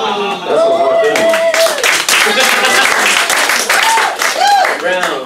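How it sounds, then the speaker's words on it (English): A panel audience at a fur convention breaks into applause, a loud patter of clapping mixed with cheering voices and talk throughout. "Round of applause."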